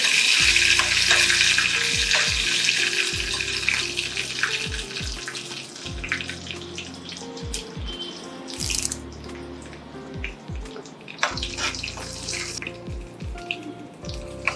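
Four halved dried red chillies fry in hot oil with popping mustard seeds for a tempering, a loud, close, continuous sizzle with sharp crackles and pops throughout.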